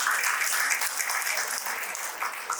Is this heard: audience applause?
yes